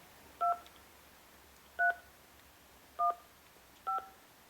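Four crisp DTMF key tones from an Alcatel-Lucent Mobile DECT 400 cordless phone, each a short, evenly spaced beep over a faint background hiss, with no voices.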